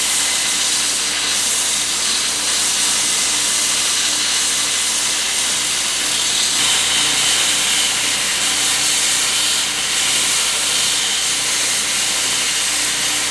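Steady, hissing abrasive grinding of a blacksmith drift forged from a jackhammer bit, a continuous bright rasp holding at constant loudness throughout with no pauses.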